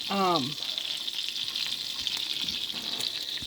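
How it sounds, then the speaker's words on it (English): Steady, close sizzling and crackling of butter and oil in a hot pan, continuous throughout, with a brief voice at the start. "my pan is a sizzling away"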